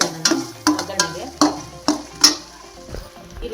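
Chopped onions dropped into hot coconut oil for tempering a fenugreek-leaf stir-fry, giving a close, steady frying hiss punctuated by repeated sharp clinks and scrapes of a spoon stirring in the pan, no voices.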